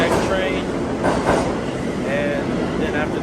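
A New York City subway train rumbles steadily with rattling wheels and brief high metallic squeals, heard up close during a transfer between trains; a voice is faintly present.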